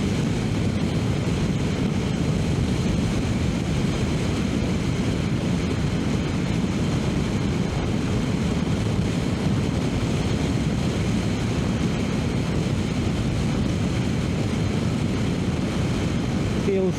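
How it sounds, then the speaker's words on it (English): Strong wind roars steadily past a Triumph Tiger 800 Sport motorcycle during a ride at low revs, a dense, unbroken rushing noise that buries the engine. "there is a lot of wind today, a lot."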